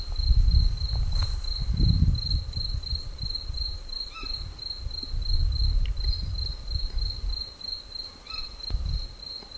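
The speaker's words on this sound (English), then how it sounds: "with crickets and the slight rustle of the wind in the trees." Crickets chirp on a summer evening in a steady high-pitched pulsing trill, with low wind rumble and faint rustling of trees underneath; no voices.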